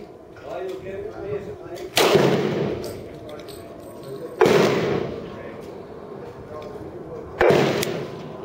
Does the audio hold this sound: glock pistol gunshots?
yes